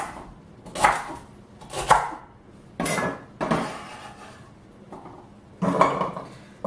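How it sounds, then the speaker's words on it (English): Vegetables being cut with a bench knife on a board for chicken tortellini soup, about six loud, separate chopping thuds and scrapes, close and unhurried, with no speech. "For the cutting of the vegetables, we're going to use a bench knife."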